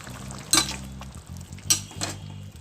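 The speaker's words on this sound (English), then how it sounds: "I'm going to mix it all" Chopped green peppers being stirred with chicken in a pan for soy sauce chicken, giving a soft sizzle with a few sharp utensil scrapes and clinks against the pan, close and fairly quiet.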